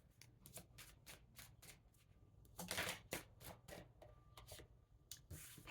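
Tarot cards are shuffled in quick, crisp riffling bursts of papery flicks that repeat irregularly, close and fairly quiet, with no talking.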